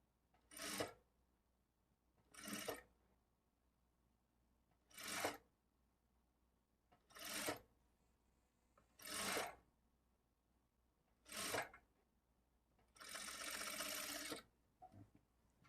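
A sewing machine stitches a lined blouse in seven short, separate runs of whirring needle action, each lasting about a second with quiet pauses between, and the last run is longer; the sound is faint and close, with no talking.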